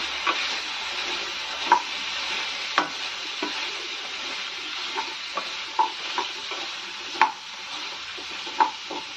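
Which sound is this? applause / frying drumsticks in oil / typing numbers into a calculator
frying drumsticks in oil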